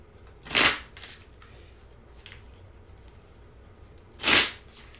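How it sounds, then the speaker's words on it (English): Cards from a Moon Oracle deck are shuffled in two short, crisp riffling bursts about four seconds apart, close and fairly soft, with quiet handling rustle between them. "I'm going to pull some moon cards, see what our messages are for this full moon from the Moon Oracle deck"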